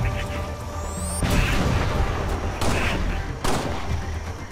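Repeated explosive booms and gunfire from grenades in the video game Halo: Spartan Strike, loud and dense, with three sharp blasts spaced about a second apart over continuous battle noise.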